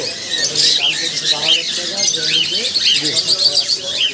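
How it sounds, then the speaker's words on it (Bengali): Green Fischer's lovebirds and other caged birds at a bird shop give loud, rapid, shrill squawks and chirps close by, overlapping almost constantly, while a voice talks underneath. "এখানে লাভবাট আছে কয়েকটা জোড়া গ্রিন ফিশার লাভবাট"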